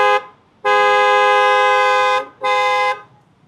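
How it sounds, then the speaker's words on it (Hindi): Dual-tone Creta-style horn fitted to a 2025 Tata Punch, sounding two loud, close blasts: a long one of about a second and a half, then a shorter one after a brief gap. "तो डुअल टोन हॉर्न जो है वो इंस्टॉल किए गए हैं, जो कि क्रेटा स्टाइल रहने वाले हैं।"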